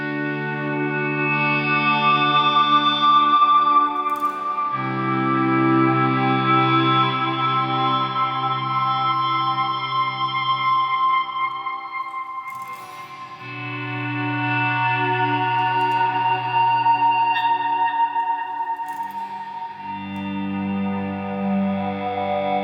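Sustained chords on a Fender Ed O'Brien EOB Stratocaster electric guitar ring out with a lush, washy reverb tail, changing every few seconds, played alone with no talking.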